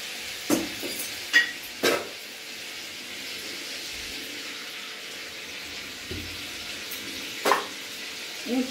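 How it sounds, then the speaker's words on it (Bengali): Oil and spices sizzling in a kadai after frying fish, a soft steady hiss underneath with a few sharp clinks and splashes scattered through, close and moderately quiet. "এবার এতে একটু ফোড়ন দেব, আর একটু তেল দেবো।"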